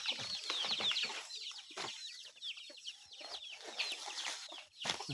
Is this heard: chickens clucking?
yes